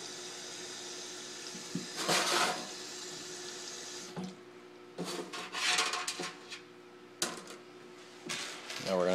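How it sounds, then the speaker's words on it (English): Tap water runs in bursts into a glass bottle sitting in a sink, with splashing and knocking between fills and brief handling noises at close range. "We're going to put some water in it,"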